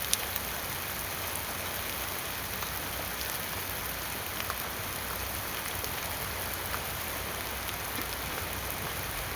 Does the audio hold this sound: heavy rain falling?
yes